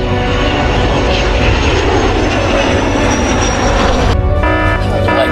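A loud, steady airplane engine drone fills the whole stretch in flight, a constant close roar that changes tone near the end, with no talk.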